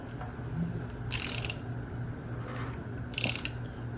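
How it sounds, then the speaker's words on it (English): A ratchet with a large socket on an engine's crank pulley bolt clicks in two short bursts as the engine is turned over, close up against a low background hum. "Gonna put a big socket on a ratchet on our crank pulley bolt. We're gonna turn it over"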